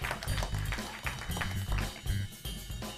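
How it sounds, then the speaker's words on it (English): A classroom of language-school students in London applauds a team, a steady dense clatter of clapping that fills the space with some crowd noise mixed in. "let's have a clap for this team."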